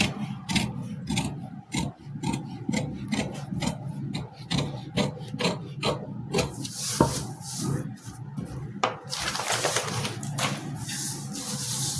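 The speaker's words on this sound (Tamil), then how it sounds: "ஆர்ம் ஹோல் வந்து பேக்குக்கு என்ன இருக்கோ அதை கட் பண்ணிக்கோங்க." Scissors cut through blouse fabric at the armhole while a princess-cut blouse is being cut out, giving a rapid run of close, rasping snips that grow louder and denser near the end.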